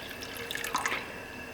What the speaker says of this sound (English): we're going to pour in water